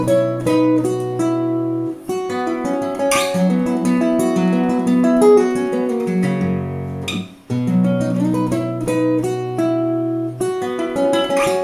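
Fingerstyle acoustic guitar plays the bridge of a song from Your Name, with flowing melody and bass notes ringing continuously and loudly, no voices over it.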